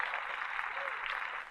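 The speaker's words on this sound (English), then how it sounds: "Clap that up." Faint, steady applause drifts in low behind a podcast conversation, a soft continuous patter of clapping without distinct individual claps.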